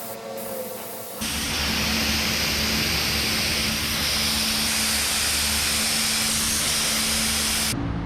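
Feather fill primer is sprayed onto a drag car's firewall in one long, continuous hiss that begins abruptly after a second and holds steady and loud until it cuts off near the end.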